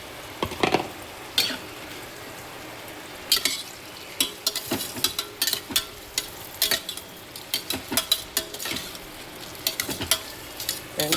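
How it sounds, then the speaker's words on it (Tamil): Chopped onions sizzle steadily in a hot pan while a utensil stirs and scrapes in irregular clattering strokes, close up, while making chicken biryani. "வெங்காயம் நல்லா வதங்கணும்."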